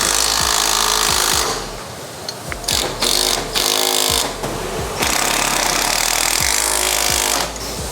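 A power tool hammers loud and close while suspension bolts are tightened on a Nissan 350Z Mega Kit. The impact rattles in rapid, harsh bursts, with brief gaps between the runs.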